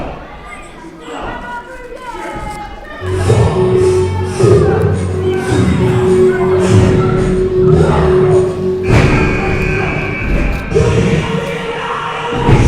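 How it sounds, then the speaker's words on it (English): A wrestling match crowd cheering and yelling, a loud continuous roar with scattered shouts, close and full, under a commentator talking throughout. "The crowd cheering on Rudy Root here."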